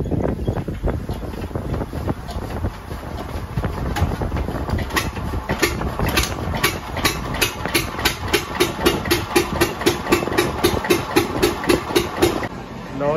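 An engine driving a dough kneading machine runs with a steady, throbbing rhythm and regular pulsing beats, loud and close, with some wind buffeting the microphone.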